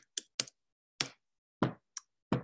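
Sparse keystrokes on a computer keyboard, about seven separate clicks at an uneven pace, close and fairly quiet against silence.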